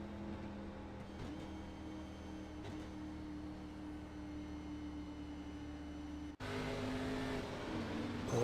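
Race car engine in a sim racing game on board at Iowa, a steady, loud sustained engine drone with layered tones that shifts abruptly to a brighter, harsher roar near the end, with no talking.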